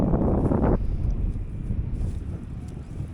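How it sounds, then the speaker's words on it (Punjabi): Cold wind at Mansar Lake, Jammu and Kashmir, buffets the microphone in a loud gust, then settles into a steady low rush. "ਠੰਡੀ ਠੰਡੀ ਹਵਾ ਚੱਲ ਰਹੀ ਹੈ"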